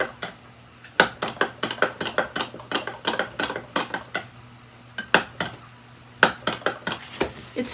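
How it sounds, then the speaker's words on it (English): Taco salad is tossed with dressing in a bowl, producing a run of close, irregular utensil clinks and knocks against the bowl over soft rustling, with no voices. "And we're going to give that a mix."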